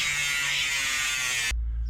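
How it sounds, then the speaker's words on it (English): A grinder working on a house exterior gives a loud, steady high whine up close for about a second and a half before cutting off abruptly, leaving a low hum. "Grandpa, he already got the grinder."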